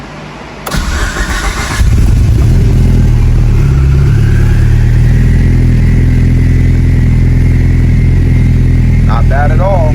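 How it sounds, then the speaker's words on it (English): A Mitsubishi Evo running on E85 fuel cranks briefly, fires up loudly and settles into a steady, rumbling idle close by, with a faint voice near the end. "So now we're gonna fire it up on E85."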